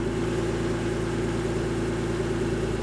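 A Honda NSX engine with a failing main relay idles steadily nearby, a low even rumble with a faint rhythmic pulse and no other sounds.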